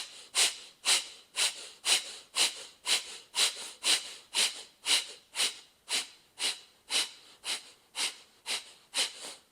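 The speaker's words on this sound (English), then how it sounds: "On the next one, you will inhale and start to exhale." Slow, deliberate yoga breathing, a long series of audible breaths drawn in and let out through the nose at a steady even rhythm, close and clear with no talking over it.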